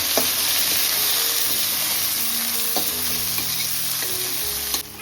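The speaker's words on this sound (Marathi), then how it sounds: "याची आता आपण त्याच्यात टॅमॅटो ॲड करू आणि टॅमॅटोसुद्धा त्याचं मेल्ट करून घेऊ" Chili and garlic fry in a pan as tomatoes go in, a steady loud sizzle with stirring scrapes and clinks throughout, close and continuous with no talking.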